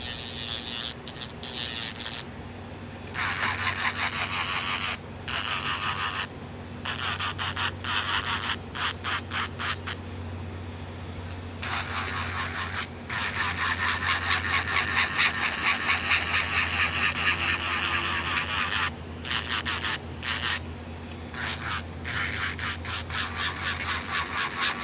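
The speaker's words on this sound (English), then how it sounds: "this is my medium sanding band. This is what I'm using to just blend in all of that acrylic" A medium sanding band buffs and blends layers of acrylic nails in steady, raspy grinding bursts that start and stop repeatedly, close and fairly loud with no one speaking.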